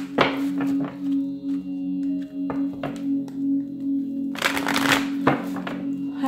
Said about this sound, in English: Let's do three more shuffles for Pisces